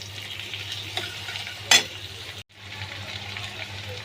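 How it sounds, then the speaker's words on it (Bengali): Potatoes frying with onions in a pan give a soft, steady sizzle with a single sharp clink of a utensil partway through and a brief dropout; no one speaks. "এবার আলুগুলো কিন্তু পেঁয়াজের সঙ্গে একটু বেশ ভাজা ভাজা মতন করে"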